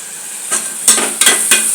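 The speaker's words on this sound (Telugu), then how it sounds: "ఇంకా ఈ టమాటాలు, ఎర్రగడ్డలతో పాటు పచ్చిమిరపకాయతో పాటు బాగా వేగుతుంటాయి" Tomatoes, onions and green chillies fry in a pan for a potato, pea and chicken kurma, giving a steady close sizzle broken by a few scraping stirs of a spoon.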